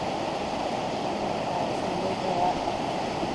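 Steady broadband rush of the creek below Burney Falls, heard from a bridge, a constant loud wash of falling and flowing water with no pauses.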